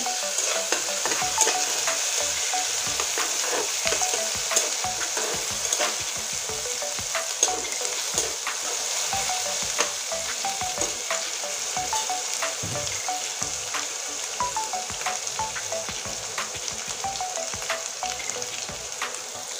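Garlic paste and well-browned onion sizzle together in a frying pan for a Rupchanda fish and potato curry, with a steady, dense crackle and frequent stirring scrapes running evenly throughout.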